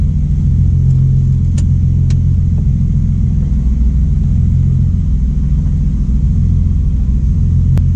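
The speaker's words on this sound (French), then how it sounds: "on va prendre la E30, on va aller faire un petit tour tranquillement" BMW E30 pulls away, a loud, steady low engine rumble heard from inside or close by, with a couple of brief clicks and no talking.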